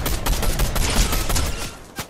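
Video game shootout gunfire rattles in rapid, dense bursts, loud and close, a near-continuous volley with a final sharp report near the end.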